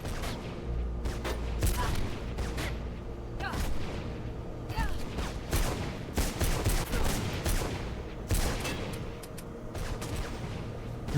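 Gunfire in the video game Mirror's Edge, a dense run of repeated shots and booms with mechanical clatter throughout, with a voice speaking over it at times.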